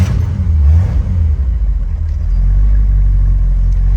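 Close and loud, a black 1968 Shelby GT500 KR convertible with a factory 4-speed revs as it pulls away, its deep engine rumble rising and then settling into a steady low drone while cruising; no one talks.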